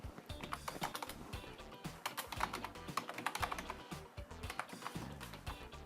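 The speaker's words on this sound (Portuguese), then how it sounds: "Eu digito mais rápido do que o autocomplete aqui" Fast, continuous typing on a computer keyboard, close and fairly quiet, with dense rapid key clicks and short pauses, no speech.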